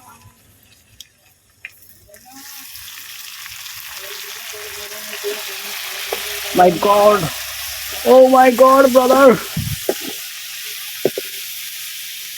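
Onions and spices sizzle and fry in hot oil in a home kitchen, a steady hiss building over the clip with louder crackling bursts as ingredients are stirred, while a voice speaks briefly.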